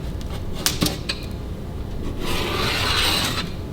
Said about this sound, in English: I don't have a pizza cutter either, so let's try to cut into it